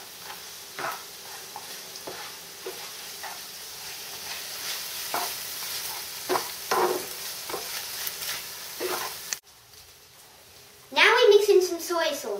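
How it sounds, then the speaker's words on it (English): Rice being stirred into fried rice in a hot pan, scraping utensil strokes over steady sizzling, near and moderately loud, with a voice speaking over it and louder talk near the end. "And now we mix the rice in."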